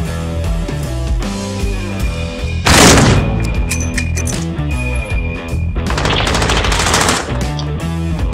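Gunfire in Call of Duty Modern Warfare with the R9 gun, loud rapid bursts of shots and booms mixed with game sound effects and music, continuous and dense throughout.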